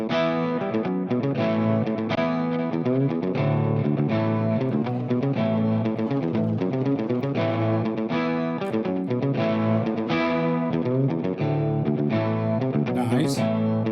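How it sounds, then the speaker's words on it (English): An electric guitar through a Donner Arena 2000 multi-effect pedal plays sustained, distorted notes and chords with delay repeats trailing behind each phrase, steady and continuous without talking. "Let's put a bit of delay on."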